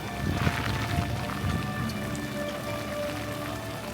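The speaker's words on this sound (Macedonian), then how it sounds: "Врне истура, така да нема толку многу луѓе." Heavy pouring rain near a bridge, a dense steady patter with some wind noise on the microphone.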